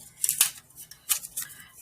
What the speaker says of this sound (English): I'm going to take my scissors and just cut around.